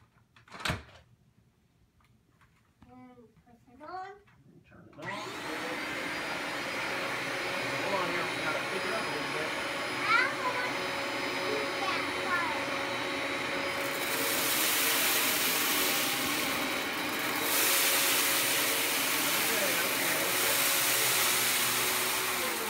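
A Dyson vacuum cleaner switches on and runs steadily on carpet, a loud continuous whirring drone with a brief click and soft voices before it starts.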